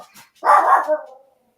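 One loud, close dog bark with a slight whine as it trails off, preceded by faint yips in a quiet indoor setting.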